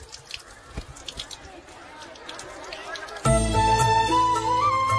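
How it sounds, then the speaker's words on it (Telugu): Water drips and trickles from a broken tap, a patter of soft irregular taps under faint background noise before music abruptly swells in and covers it. "ట్యాప్ పాడైపోయింది. నీళ్లు చూడు ఎలా వేస్ట్ అయిపోతున్నాయో."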